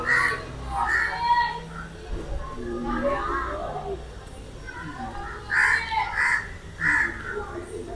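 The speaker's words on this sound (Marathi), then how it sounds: "तिकडून आवाज करतो कावळा" Crows caw in several harsh bursts of two or three calls, fairly near and loud, with people talking in between.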